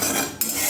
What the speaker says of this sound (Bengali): ভাজা হয়ে গেছে, এবার শিলের মধ্যে ঢেলে দেবো।